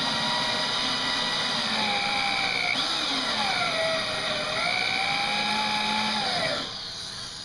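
Drill bit spinning and boring into very hard fresh wood, a steady high whine with a motor tone that shifts pitch as pressure changes, dropping off near the end.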